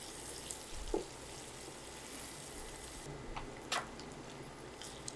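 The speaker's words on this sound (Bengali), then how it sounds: "পেঁয়াজের সাথে ডিমগুলো একটু ভাজা ভাজা হবে" Eggs frying with chopped onions in a pan, made for a moong and masoor dal, give a quiet, steady sizzle with a few soft stirring knocks, no voices.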